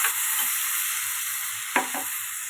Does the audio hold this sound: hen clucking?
no